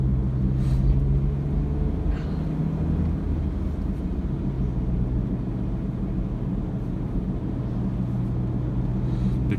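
A smart CityCoupé with an automated manual gearbox cruises along, its small engine giving a steady low drone and road rumble from inside the cabin, without any clearly distinct gear change.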